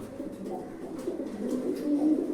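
Low, steady pigeon cooing, growing a little louder toward the end, with soft bird movement in the background.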